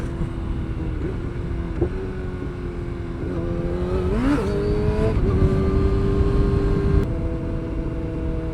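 A dirt bike engine drones steadily with pitch rising and falling as it revs on a ride through Holland, loud and close, no talk during the clip.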